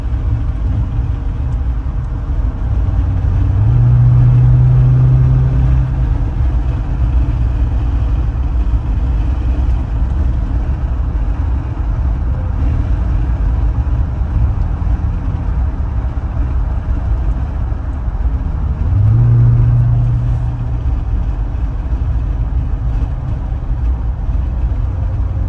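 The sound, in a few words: Dodge Challenger Hellcat Redeye engine while driving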